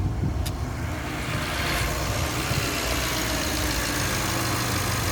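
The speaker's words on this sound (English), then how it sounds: "so it just idled down, so the cold start procedure is over." 2012 Porsche Panamera Turbo S engine idling after a cold start, a steady low rumble with broadband hiss, even and moderately loud throughout with no talk.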